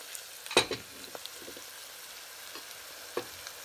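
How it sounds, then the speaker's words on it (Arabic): Soft sizzling and crackling of marinated meat frying over fried onion in a pot for a Moroccan meat and mlokhiya tajine, quiet and close, with a few sharper pops scattered throughout. "D'abord غادي نزيد هاد الحيمه ديالي على هذيك البصيله اللي قليتها في لا كوكوط."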